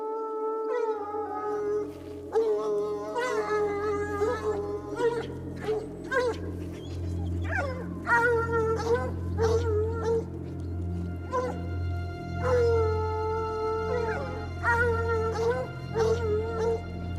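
Hunting dogs bark and bay during a hare hunt in wooded mountain terrain, with repeated excited yelps and howling cries rising over a steady low background rumble, fairly close and continuous.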